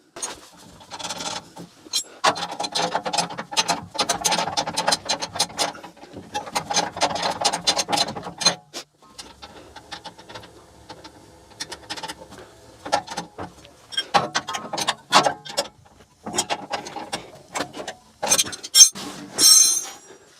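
Metal clinks, scrapes and rattles from tightening nuts on a Sip 01332 table saw, in busy irregular bursts with short pauses, close and fairly loud, no speech.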